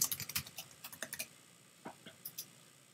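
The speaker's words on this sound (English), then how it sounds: "Type your password." Keys clatter on a Mac computer keyboard as a password is typed: a quick burst of close, crisp keystrokes, a short pause, then a few more scattered taps, with no talking.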